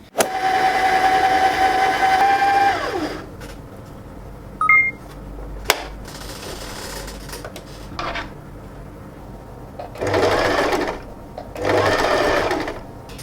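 A sewing machine runs straight stitches to gather fabric for the straps of a thrifted top. It gives a steady, close whirring run for about three seconds, then shorter stitching bursts return near the end amid quiet handling noises.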